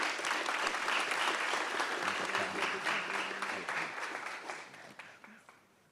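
A round of applause at a regular board meeting, many people clapping steadily that gradually fades out, with some voices murmuring underneath.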